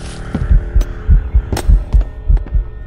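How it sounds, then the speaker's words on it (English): Heartbeat from a Minecraft horror mod: deep, close, thudding double beats repeating at a steady quick pace over a low hum, with sharp game effects cutting in between. "Hear my heart beating."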